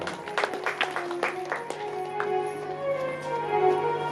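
Audience at a Shiv Maha Puran religious discourse clapping in a short burst of rhythmic claps that fades out, with a sustained tonal hum in the background.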